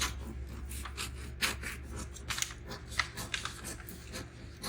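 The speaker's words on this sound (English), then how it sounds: "I'll grab my scissors now and then cut out this shape that I already have" Scissors cutting out a fabric shape for a keyhole neckline top, a series of soft, irregular crisp snips and rasping slides through cloth, close and quiet with no talk.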